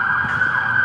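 Emergency vehicle sirens pass by outdoors, a loud, steady wailing tone holding throughout with faint low traffic rumble beneath, no talking.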